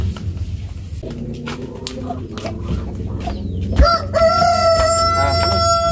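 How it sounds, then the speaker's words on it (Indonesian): A rooster crows loudly and close by in a short Sundanese comedy scene, its long call rising over earlier soft chicken clucks and background activity. "Ayam dia tuh"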